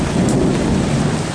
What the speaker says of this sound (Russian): Гроза! Майская гроза!